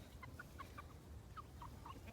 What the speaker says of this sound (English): The little ones are crowing.